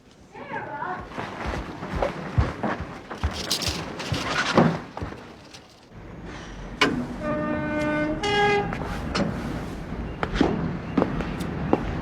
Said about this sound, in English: the train now approaching platform 3 will terminate at Clacton East